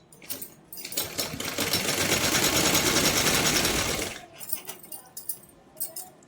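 A sewing machine stitches the folded hem of a small Laddu Gopal summer dress in one sustained whirring run of about three seconds, framed by light clicks and handling taps before and after.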